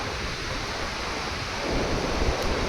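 A broad, steady roar of water rushing through open dam gates, growing a bit louder and heavier partway through, with no voices.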